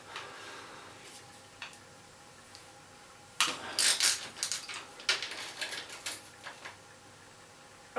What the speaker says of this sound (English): I'm using the ratchet wrench because it's just simpler, much easier than with an Allen key